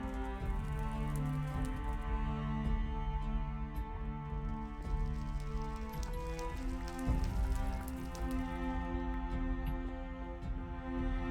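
Steady rain patters on surfaces in the Minecraft modpack SevTech: Ages, with scattered drips over a constant hum and a few soft clicks, no voices.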